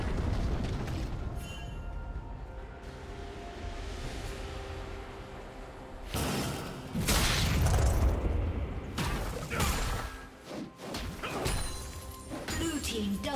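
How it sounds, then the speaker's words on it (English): A turret collapsing in League of Legends, with crashing, booming impacts in the middle over steady in-game battle noise, followed by further scattered hits. "Red team's turret has been destroyed."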